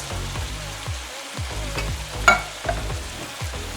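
Frozen corn and undrained canned diced tomatoes are stirred in a casserole pan, giving a steady sizzle with a few close spoon scrapes and soft clinks.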